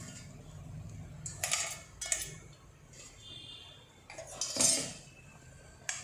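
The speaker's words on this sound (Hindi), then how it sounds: "अब हम इसमें हमारे मखाने डालेंगे।" Fox nuts dropped into warm milk in a wok and stirred, giving sparse metallic clinks and scrapes of a spoon against the pan, quiet and close, with soft gaps between strokes.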